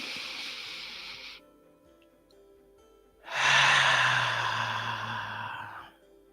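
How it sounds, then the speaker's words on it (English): Two long, breathy airflow sounds during a guided meditation, a soft inhale of about a second and a half, then after a quiet pause a louder, fuller breath of nearly three seconds, close and with no talking over it. "And we're just going to take a deep breath in."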